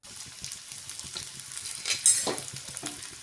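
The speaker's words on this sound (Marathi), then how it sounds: "कांदा छान परतून घ्यायचा आहे" Onion sautéing in about half a spoon of oil on a flat tawa gives a soft, steady sizzle, with scraping stirs and a light clink of utensils partway through.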